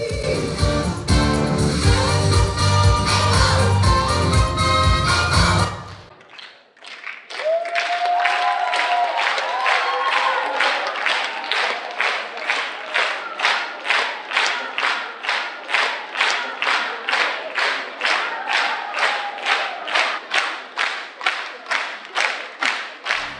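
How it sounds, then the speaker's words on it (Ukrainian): A concert hall audience claps in steady synchronous rhythm to drive on the dancers, loud massed even beats running on after a burst of music, with no voices on top. "А зал, зал почав гудіти синхронними оплесками, щоб додати ритму танцюристам"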